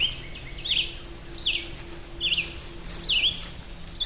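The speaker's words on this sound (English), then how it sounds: "It's just a cute little chorus of birds as we actually go into, like a little forested area" Repeated bright chirping bird calls in a forested area near water, coming in a steady series of short phrases over a constant background hiss.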